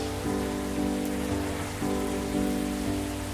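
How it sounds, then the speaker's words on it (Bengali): Steady rain hiss in a bus driving video game, a continuous wash of falling rain heard alone alongside a low droning tone that swells and repeats every second or so. "আবার বৃষ্টি চলে আসছে"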